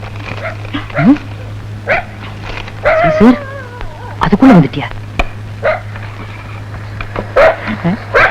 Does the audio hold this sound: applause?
no